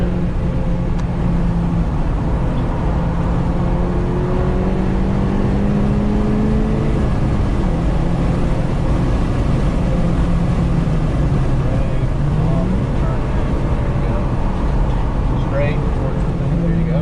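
Car driving at speed around the Carolina Motorsports Park track during a high-performance driving session, a loud continuous engine drone with shifting pitch as it rises and falls through turns, heard from inside the car alongside wind and road roar and an instructor talking.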